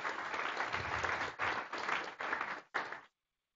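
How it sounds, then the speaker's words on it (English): A conference audience claps together for new contributors, a dense, even round of applause that continues in bursts before cutting off abruptly into silence near the end. "Let's have a round of applause for all of these new people."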